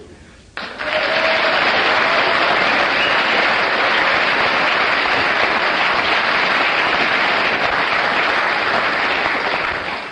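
A studio audience at a comedy panel show breaks into loud, sustained applause that starts abruptly and holds steady for about ten seconds, with no talking over it.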